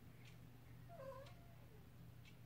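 A cat meows outdoors in a single drawn-out, wavering meow. It sounds distant and faint over steady low background hum, with a couple of soft ticks around it.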